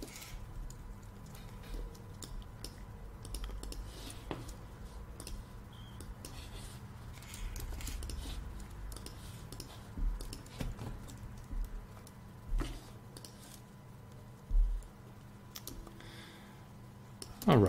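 Keys on a computer keyboard tap faintly and irregularly, with scattered louder clicks in the second half, all at low level against quiet room noise.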